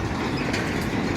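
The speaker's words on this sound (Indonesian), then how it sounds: "dengan melintasnya kereta lori di perlintasan Rejo Agung ini" A lori train pulled by locomotive number 12 rolls through the Rejo Agung level crossing, its loaded and empty wagons making a loud, continuous rumble with metallic rattling, close by and without talk.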